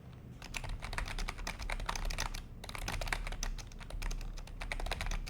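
Someone types a command on a computer keyboard in a steady run of quick, close clicking keystrokes, with a short pause partway through and no talking.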